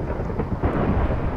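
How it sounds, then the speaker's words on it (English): Deep rolling thunder rumbles continuously in the Minecraft Pixelmon game, with a faint patter of rain beneath it. "There's so much thunder outside."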